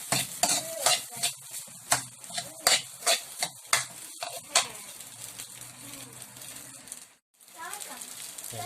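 Beef loaf fried rice frying in a pan is stirred with a utensil in a run of regular scraping strokes over a soft sizzle, followed by quieter handling, with a voice speaking at times.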